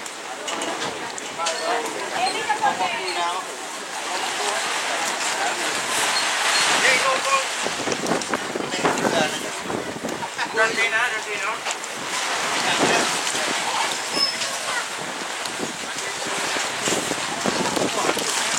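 Strong wind gusting across an open paragliding venue with tents, roaring continuously into the microphone with buffeting swells, while a voice talks throughout.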